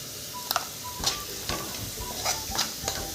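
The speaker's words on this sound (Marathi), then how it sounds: "आणि 1-2 मिनटं हलवायचं आहे." Aloo dum biryani masala with garam masala being stirred in a pan, giving soft repeated scraping strokes at a steady rhythm over a faint low sizzle, close and fairly quiet with no talking.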